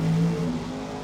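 No-prep drag race cars idling at the start line, a brief, steady, low engine rumble with a slight swell at the beginning.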